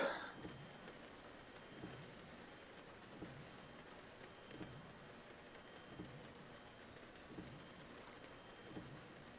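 Steady rain falls in a dark night race at Monza in Assetto Corsa Competizione, a soft, even hiss with faint low rumbles running throughout.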